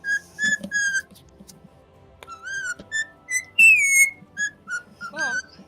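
A pet bird whistling The Simpsons theme, a series of clear, pure whistled notes in short phrases with sliding pitches and brief gaps, fairly close, mixed with a few soft clicks and chirps.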